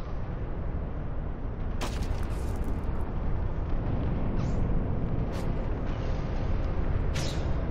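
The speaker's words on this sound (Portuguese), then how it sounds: "Ainda está a vir tiros aí de algum sítio." Gunfire in the shooter video game Black, a dense roar of shots and blasts with a few sharper cracks standing out, loud and continuous throughout.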